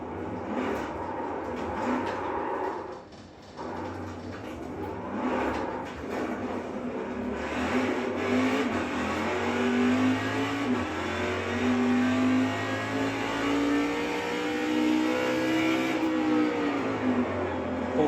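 Simulated car engine from a racing game played on a Trak Racer TR8 Pro simulation rig, a steady loud revving drone that rises and falls in pitch with gear changes throughout, with faint background noise and no clear talk.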